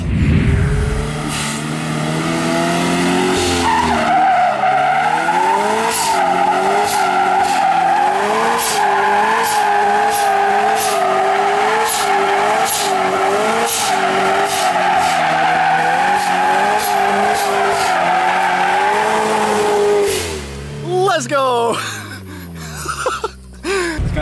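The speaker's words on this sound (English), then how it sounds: "it would be kind of funny to do some donuts with the door off" Loud, sustained tire squeal with a revving engine as a Subaru BRZ/FRS-type car, an FRS with a door removed, spins donuts, pitch wavering continuously, then breaking into choppier skids near the end.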